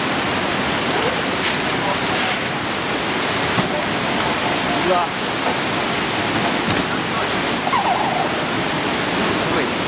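Tsunami seawater surging into Matsukawaura fishing port in Soma, Fukushima, a steady roaring wash of rushing water throughout, with excited voices shouting over it.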